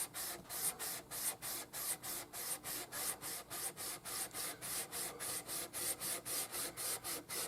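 Steady back-and-forth sanding strokes scrape across the body of a 2011 Epiphone Les Paul Traditional Pro guitar, a close, even rhythmic rasp of roughly three strokes per second with no talking.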